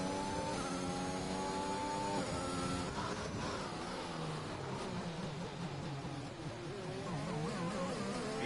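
A Formula 1 car in a racing video game at Bahrain, its engine note steady and prominent, climbing through gear changes with rising harmonic whine, then dropping and surging again as it accelerates out of the pits.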